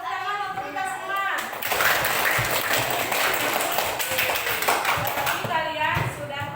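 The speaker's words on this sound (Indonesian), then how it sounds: "tepuk tangan untuk kita semua" Children in a classroom break into applause, a dense patter of clapping that swells after a moment of talk and continues steadily, with young voices speaking over it near the end.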